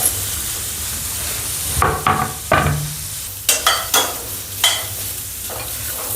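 Chopped onion frying in a pan for chhole masala, a soft sizzle under repeated stirring with a spoon that scrapes and knocks against the pan, close and fairly loud.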